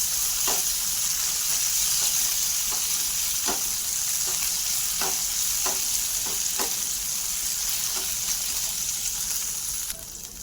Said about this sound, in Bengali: এবার দিয়ে দিলাম থেতো করে রাখা কাঁচা লঙ্কা আর আদা। এবার একটু কষে নেব।